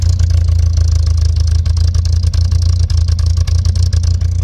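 A Chevrolet Chevette's new engine idles close up, a loud steady low rumble with a fast regular pulsing throb and faint clattering ticks.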